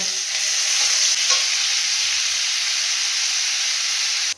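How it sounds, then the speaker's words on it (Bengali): Onion, garlic, ginger and tomato fry in a pan with a steady, close, loud sizzle and hiss that runs unbroken for several seconds, then cuts off abruptly at the end. "পেঁয়াজ, রসুন, আদা, টমেটো আমার ভাজা হয়ে গেছে"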